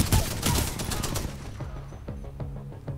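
Rapid automatic gunfire from a large-magazine weapon in Titanfall 2, loud dense bursts at first, then a steady run of quicker, lighter shots with metallic ringing, no talking.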